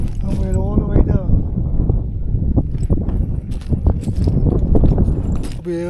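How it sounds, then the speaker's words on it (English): Heavy wind buffets the microphone on a cliff edge with constant low rumble and rustle, with a voice speaking briefly near the start. "A little bit on the windy side."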